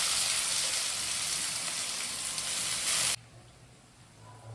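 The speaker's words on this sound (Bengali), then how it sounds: "আমি পেঁয়াজটা দিয়ে দিচ্ছি।" Onion frying in a pan gives a loud, steady broadband sizzle that cuts off sharply after about three seconds, leaving a faint low hum.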